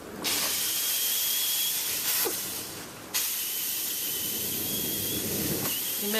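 A steamer hisses steadily and loudly as it softens hide glue to free the spline on a caned chair, the broad hiss dipping briefly twice before resuming at full strength, with no talk.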